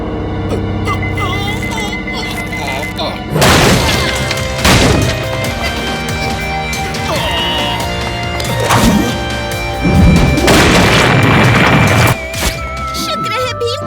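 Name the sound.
cartoon sticky bomb explosion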